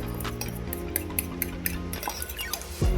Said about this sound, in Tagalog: Kunin natin yung egg. Haluin natin.